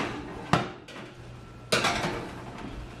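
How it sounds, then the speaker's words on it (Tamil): Two metal cake trays holding rich Christmas cake are set onto the middle rack of an oven, giving two sharp clanks about a second apart over a low hum of kitchen background. "இந்த இருக்கு 2 கேக் ட்ரேயும் தூக்கி நான் நடு ரேக்கில் வச்சிருக்கேன்."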